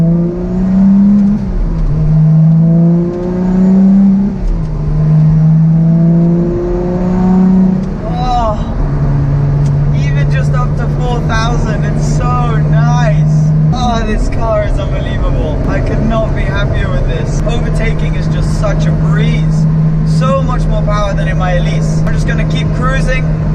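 A Lotus Exige Sport 380 drives on a motorway, its engine note rising through a few quick revs and gear changes, then settling into a steady loud drone from inside the cabin while someone talks over it.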